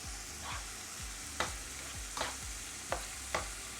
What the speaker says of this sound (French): On remue un petit peu, on mélange